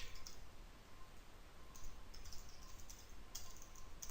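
Faint, quick keystrokes click on a computer keyboard while someone types code, coming in irregular short bursts over a quiet background hiss.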